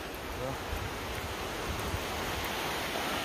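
Broad, soft rushing of river water fills the scene steadily, heard from the bank along a trail near Gatlinburg, with light wind noise.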